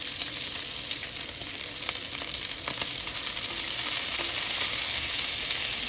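Bacon frying in a pan as it is checked and flipped; a steady, dense sizzle and crackle of hot grease fills the whole stretch, with a few sharper pops, close and fairly loud, no talking.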